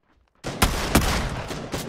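A sudden burst of rapid gunfire from the video game Battlegrounds on PS5 starts after a brief silence, several loud close shots in quick succession with a sustained noisy rumble.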